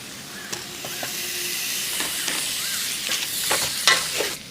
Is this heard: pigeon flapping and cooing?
no